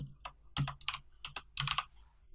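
Python code is typed on a computer keyboard in irregular bursts of crisp, close key taps, each cluster separated by short pauses, quiet and with no voices.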